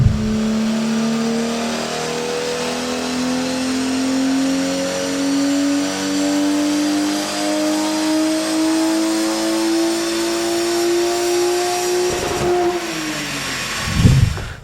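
A BMW 135i E82 running Stage 2 tuning with methanol injection pulls hard on a manual-gearbox run, its engine note climbing steadily and loud for about twelve seconds before it shifts and drops off.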